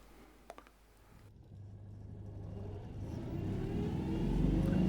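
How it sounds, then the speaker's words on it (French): A Citroën 2CV starting up. A couple of sharp clicks are followed by a low engine rumble that swells steadily louder as the motor catches and revs, heard alone and fairly faint. "Désormais, la 2 chevaux démarre bien."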